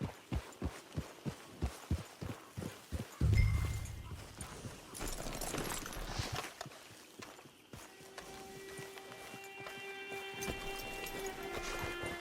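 Horse hooves clip-clop in the video game Red Dead Redemption 2, a run of evenly spaced, fairly loud thuds at the start, then a louder thump and a blend of game noise, wind and a sustained musical tone.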